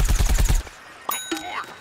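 Rapid burst of about six gunshots fired in quick succession in the Plants vs Zombies Garden Warfare shooter, loud and close, followed by shorter electronic game effects and a rising synthetic tone.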